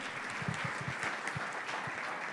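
A church congregation claps in a short burst of steady, moderately distant applause lasting a couple of seconds, with no voices standing out.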